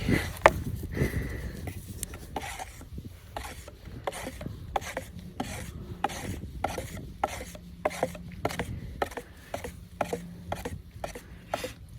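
A wooden stir stick mixes paint with rapid, rhythmic rasping strokes, steady and close, continuing throughout.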